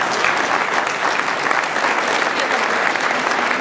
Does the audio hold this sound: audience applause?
yes